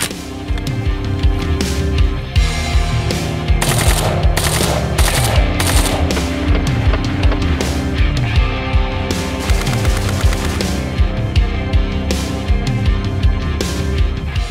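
Automatic fire from a Yugoslavian milled-receiver AK rifle fed from a quad-stack polymer magazine, a long, loud, steady string of rapid shots in close succession with only a short break, and no talking.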